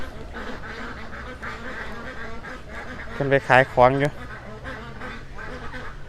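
Several loud, nasal duck quacks in a quick cluster over steady outdoor background noise, with someone talking around them.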